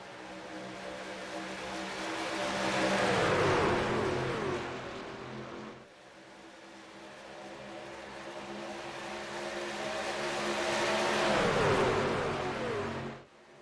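NASCAR race trucks in a video game roar around Daytona in two long passes, engine drones swelling loud and falling away in pitch as each pack sweeps by, with no talk.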